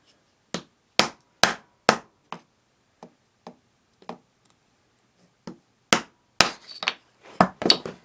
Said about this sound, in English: now I'm going to pop these off of here